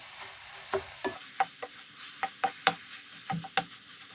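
Kavurma (fried cubed meat) being stirred in a pan, with a quiet sizzle under a series of sharp utensil scrapes and clicks spaced irregularly about every half second; no voices.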